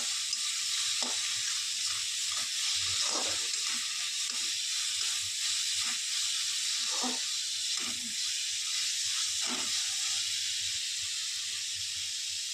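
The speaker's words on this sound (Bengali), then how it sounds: "জিরের গুঁড়ো দিয়েও একটুখানি নেড়ে নিচ্ছি" Cumin powder being stirred into a snakehead fish curry in a pan, with a continuous soft sizzle and hiss and occasional faint scrapes of a spoon, all fairly quiet and without voices.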